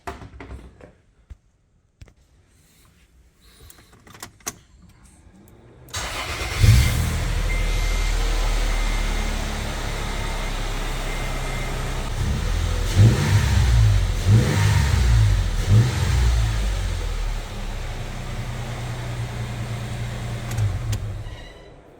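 A few quiet clicks, then a 2008 Toyota FJ Cruiser engine with a TRD air filter and cleaned MAF sensor cranks and starts, settles into a loud idle, and revs up several times in the middle before easing back.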